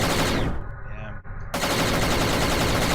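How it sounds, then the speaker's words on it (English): A loud explosion effect in a Blender-made X-Wing scene exported to Godot bursts in, falls silent for about a second, then erupts again as a sustained blast of broadband noise. "So it's exploding"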